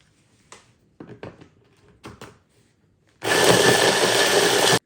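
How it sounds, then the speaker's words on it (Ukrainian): A few light clicks and taps are followed by a blender that starts abruptly and grinds loudly and steadily to the end, crushing dark and light sponge cake scraps into crumbs. "обрізки з темного коржа та світлого переб'ємо на блендері в крихту"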